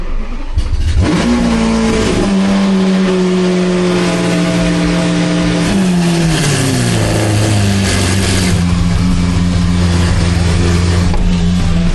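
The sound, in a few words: Lamborghini engine starting and revving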